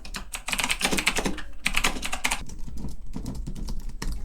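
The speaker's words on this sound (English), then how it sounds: "when you're typing on it, it's pretty loud" Someone types on a MadGiga K400 mechanical keyboard fitted with Outemu blue switches. The keys give dense, loud, clicky bursts of rapid keystrokes with a few short pauses in between, close up and with no voices.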